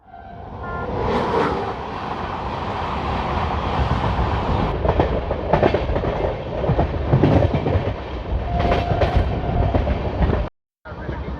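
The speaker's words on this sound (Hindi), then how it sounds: "ट्रेन आ रही है और हाई स्पीड में आ रही है।" Express train rushing past at high speed on an Indian Railways line, a loud continuous roar of rolling wheels with rhythmic clickety-clack over rail joints, sustained close by for about ten seconds before cutting off.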